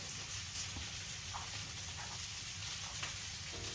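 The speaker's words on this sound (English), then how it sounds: "got my potatoes frying in the background, so that's what the sizzling is" Steady sizzling hiss of potatoes frying in a pan, a constant crackling wash with faint pops, no talking.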